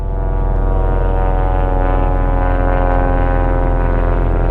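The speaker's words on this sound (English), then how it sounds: "Ignore the plane overhead." An old Navy propeller plane passing overhead, a steady droning engine hum with a strong low rumble that stays loud and constant throughout, with no talk.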